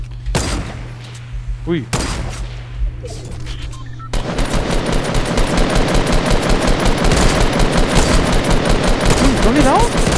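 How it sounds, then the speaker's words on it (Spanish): Rapid automatic gunfire in a Fortnite match at Greasy Grove, a duo-versus-squad game, with dense bursts that grow louder and nearly continuous after a brief lull, while a player's voice exclaims briefly over it. "Se disparan ahí enfrente."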